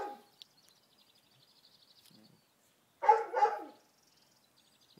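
A dog trapped indoors barks in two short muffled bursts around the middle of the clip, with faint chirping birds outside and a brief sound at the start, mostly quiet otherwise.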